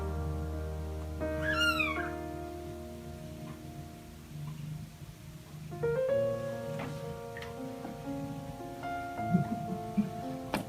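A newborn kitten, just born to a rescue cat, lets out a thin, high squeak that sweeps upward, followed by a few softer mewing sounds close by against a quiet room.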